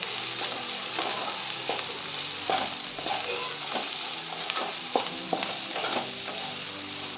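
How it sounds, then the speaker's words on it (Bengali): Chopped onion, ginger and chilli fry in a hot pan with a steady, close sizzle. Regular scraping stirs break through it every second or so, and no one speaks. "আমি এখন দিয়ে দিচ্ছি পেঁয়াজ কুচি, আদা কুচি, লঙ্কা কুচি। আমি এখন এটাকে ভালোভাবে ভেজে নেব।"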